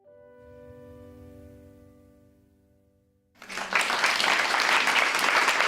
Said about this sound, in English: Thank you for those applause.